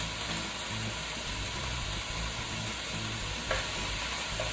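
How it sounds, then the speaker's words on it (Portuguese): Bell pepper sautéing in a pan as the base for shrimp bobó, with tomato and tomato paste added, gives a steady, close frying sizzle that runs unbroken through the whole stretch, without any talk. "Vou deixar esse pimentão refogando mais ou menos uns 15, 20 minutos."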